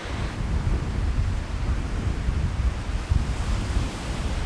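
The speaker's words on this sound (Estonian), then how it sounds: "Aga lained on ilusad." Sea waves wash continuously onto the shore in Malta, with a loud, rushing surf roar and gusts of wind buffeting the microphone, no voices.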